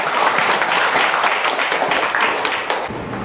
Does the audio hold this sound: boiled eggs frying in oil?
no